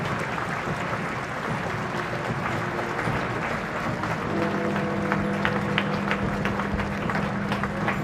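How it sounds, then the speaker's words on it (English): Crowds lining the pavements clap as a royal cortege passes near Parliament Square and the Palace of Westminster, a steady wash of distant outdoor applause that swells slightly, with a faint engine-like hum underneath. "the applause from the pavements swelled."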